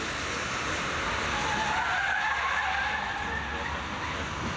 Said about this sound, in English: That car is now driving itself.